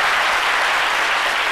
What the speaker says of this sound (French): On applaudit très fort Paulus Agathon.